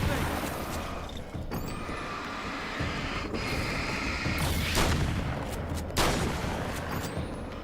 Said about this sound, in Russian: какой эффект клевый от выстрела